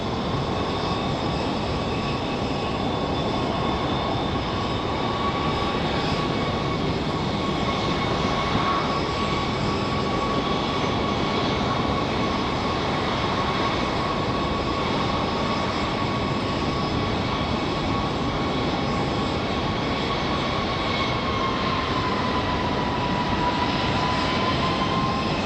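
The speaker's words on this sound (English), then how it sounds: "Got an A321 for American Airlines getting ready to head out to Charlotte." An American Airlines Airbus A321 at Raleigh-Durham airport, heard as a loud, continuous jet engine roar with a steady high whine that holds throughout, with no voices.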